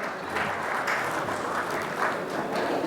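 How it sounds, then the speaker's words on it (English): Conference audience at the International Galvanizing Conference applauds to welcome a speaker, a steady, moderately loud round of many hands clapping that carries on evenly throughout. "Once again, with a round of applause,"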